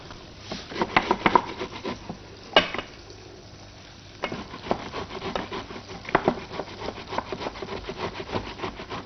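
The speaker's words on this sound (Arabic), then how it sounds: "نقلب البصل معانا" Chopped onions being stirred in a pan with a wooden utensil: repeated scraping strokes and soft patters in irregular bursts, close up, over a faint background sizzle.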